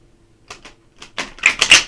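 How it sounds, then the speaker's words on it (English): A few soft taps, then a quick burst of crisp oracle-card shuffling riffles, close and brief. "Do one last shuffle."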